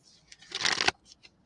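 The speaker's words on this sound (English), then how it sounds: "Shuffle some cards here." Tarot cards are shuffled once in a short riffling burst close by, with a few faint card taps before and after.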